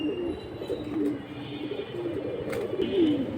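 Pigeons coo at a pigeon market in several soft, throaty rolling calls, fairly close, over a low background murmur with little talk.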